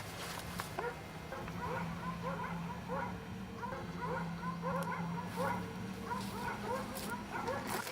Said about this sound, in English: You can hear dogs